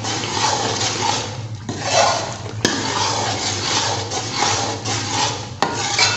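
Sweet besan halwa stirred in a kadhai over a fire, a continuous scraping and rasping of the spoon against the metal pan, close and loud, with brief pauses between strokes.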